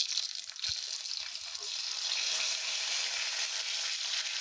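Hot oil in a wok sizzles steadily as ginger paste and bay leaves fry, a close, bright hiss that swells and stays constant, with a few faint clinks at the start.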